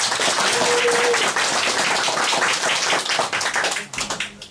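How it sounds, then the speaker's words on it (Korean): Loud applause from a crowd fills the room, sustained for a few seconds before thinning out into scattered final claps. "김석환 군수님께 힘내시라는 의미로 큰 박수 부탁드립니다"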